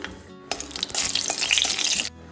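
Bay leaves, five-spice and a dried red chilli hit hot oil in a kadai, bursting into a loud, crackling sizzle that swells after a quiet start and then cuts off, with no talking.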